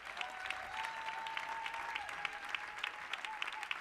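A church congregation applauds to acclaim Jesus at a service of ICC Boissy-Saint-Léger, with steady, moderately distant clapping filling the room and a faint sustained tone running underneath.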